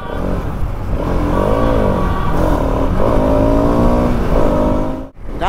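Motorcycles, including a KTM Duke 250, rev and pull off together for a short group ride, with engine notes rising and falling in loud, close bursts before cutting out abruptly near the end.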